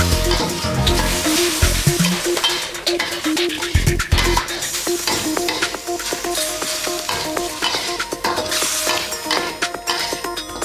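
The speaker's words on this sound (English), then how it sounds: "We add a little bit of chicken stock to keep it frying nicely." Ginger, garlic and black mushrooms frying in a wok with a little chicken stock, loud continuous sizzling broken by repeated scraping and stirring strokes of a utensil against the pan.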